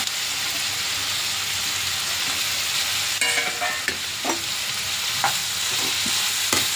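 Softened onions with freshly added garlic frying in a pan for tomato chutney, a close, steady sizzle broken by several brief scrapes and clinks of the stirring spoon in the second half, with no talking.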